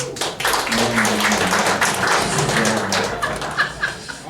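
A married audience at a live stand-up comedy show in Malmö claps hands together, a dense crackle of many hands at steady loudness with some laughter and voices mixed underneath.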